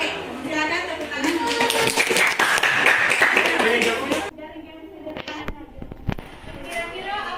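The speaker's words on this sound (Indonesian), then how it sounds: "Oke, silakan tepuk tangan." A classroom of students clapping their hands together for about four seconds, dense and fairly loud with a few voices mixed in, then it stops and quiet talk and scattered taps follow.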